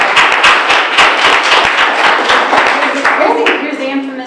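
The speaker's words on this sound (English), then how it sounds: "I want to give you a round of applause." A small audience at a talk gives a loud, close round of applause, with distinct hand claps in a busy rhythm that gradually eases off as voices start speaking near the end.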